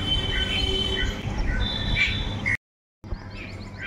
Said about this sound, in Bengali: আর এত সুন্দর পাখির আওয়াজ না